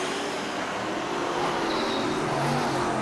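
Super sedan race car roaring along the main straightaway at Gympie Speedway, a loud, continuous engine drone with a rising pitch as it passes, set against broad track noise.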